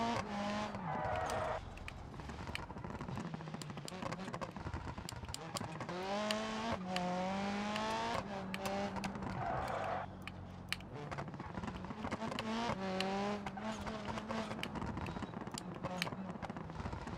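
A race car in a driving video game revs hard and accelerates, its engine pitch climbing and falling through repeated gear shifts, loud and continuous, with someone talking over it.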